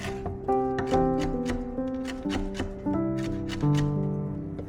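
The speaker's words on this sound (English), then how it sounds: "Finely dice the chrysanthemum." A kitchen knife finely dices chrysanthemum greens on a board in quick, crisp, close chopping taps, with music playing throughout.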